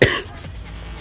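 A single sharp cough bursts out at the start during a triathlon at Sand Hollow, Utah, then fades into low, steady background noise.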